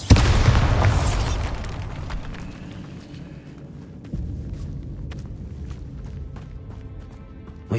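A Bombarda spell explosion in the Hogwarts Legacy video game: one loud booming blast at the start that rumbles and fades over several seconds, followed by a softer thud and lingering debris noise.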